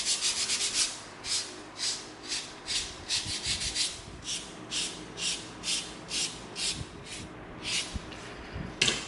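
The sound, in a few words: sanding EVA foam chainsword with 220 sanding stick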